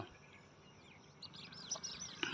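Birds chirp and call repeatedly in a village at sunrise as flocks fly over, the twittering faint and distant, growing a little busier toward the end with no talking.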